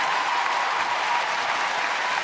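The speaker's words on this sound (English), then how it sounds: "Give them a big round of applause," Dense, even applause from a large audience at a television awards ceremony, loud and continuous throughout with no talking.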